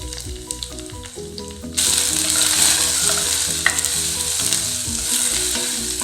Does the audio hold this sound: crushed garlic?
yes